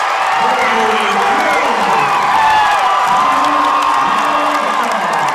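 A home crowd at a high school boys' Class C regional final basketball game cheers and shouts loudly after a left-handed layup. The roar is sustained and dense, with whoops and children's yells, plus an announcer's voice over the top.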